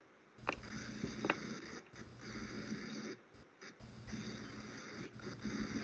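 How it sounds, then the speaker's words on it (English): A dog snoring in the background of a council meeting, faint, rhythmic snuffling breaths that rise and fall in several cycles, with short pauses between them and no talking. "if you hear my dog snoring in the background"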